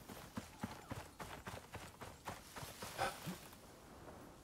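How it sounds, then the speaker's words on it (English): Horses walking in the survival game Icarus, a steady run of hollow clip-clop hoofbeats overlapping at close range, with brief game noise and no talk. "Let's try and ignore all these horses in here."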